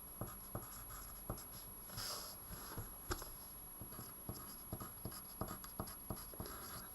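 Equations written by hand with a pen or marker, a steady series of short scratchy strokes and taps at an irregular pace, close and clear with no talking.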